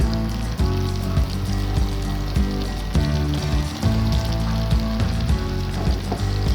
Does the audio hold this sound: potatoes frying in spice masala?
yes